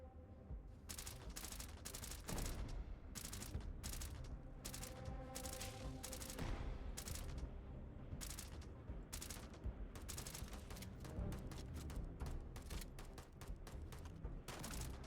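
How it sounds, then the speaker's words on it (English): Dense, loud gunfire in the video game Starfield, rapid automatic bursts and single shots crowding each other in an almost continuous barrage across the whole stretch, with no talk over it. "What are you guys shooting at?"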